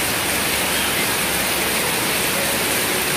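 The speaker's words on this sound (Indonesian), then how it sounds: "Nunggu hujan hari sampai reda" Heavy rain falls steadily outdoors, a loud, even wash of noise that holds without pause.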